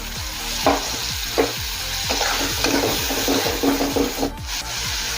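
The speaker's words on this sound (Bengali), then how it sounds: "অল্প পরিমাণে গরম জল দিয়ে মশলাটা ভালোভাবে কষিয়ে নেব।" Spice masala with coriander powder and a little hot water is stirred and fried in a pan. Repeated rhythmic spatula scrapes sound over a continuous close sizzle, with no talking.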